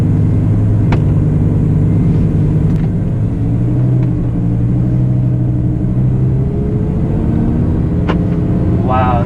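A 2018 Audi R8 V10 Plus pulls away, its engine giving a loud, steady low rumble that swells as it accelerates, close up and continuous throughout.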